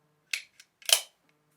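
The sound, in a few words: racking the slide of a Staccato 2011 XL pistol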